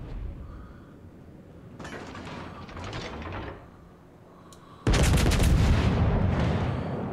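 Warship gunfire in the naval game World of Warships, two heavy booming salvos with rumbling tails, the second louder and closer, over low engine and sea ambience.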